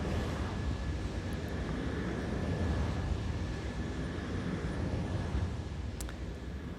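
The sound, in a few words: recording of a wind turbine up close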